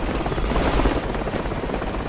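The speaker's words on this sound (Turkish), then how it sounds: "Helikoptere çıkıyorlar." Helicopter in the tactical military shooter Project Reality, a loud, close rotor roar with dense rhythmic thumping that fills the whole clip without speech.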